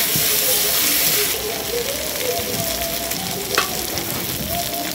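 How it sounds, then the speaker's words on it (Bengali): Potatoes, green chilli and tomato are stirred in a hot frying pan, giving a loud, continuous sizzle with steamy hiss and occasional scrapes of the spoon. "আলুর মধ্যে কাঁচা লঙ্কা দিয়ে দেবো, টমেটো দিয়ে দেবো। দিয়ে ভালো করে নেড়ে নেব।"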